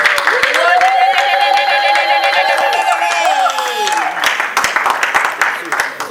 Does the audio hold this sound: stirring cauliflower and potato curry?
no